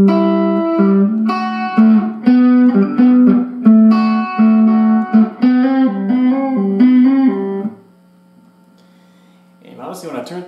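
A loud overdriven electric guitar lead of quick melodic phrases, then a single note rings out quietly before a brief burst of playing returns.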